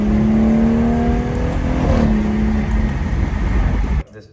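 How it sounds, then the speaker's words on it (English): A BMW with a ZF 8-speed automatic transmission revs, and its engine tone climbs and steps through a gear shift partway, loud and close before cutting off abruptly. "that type of shift sound, and it sounds really good"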